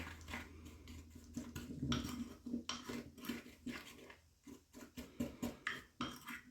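Homemade electrolyte drink being stirred in a container, a quick run of soft clinking and scraping spoon taps, close and fairly quiet with no talking.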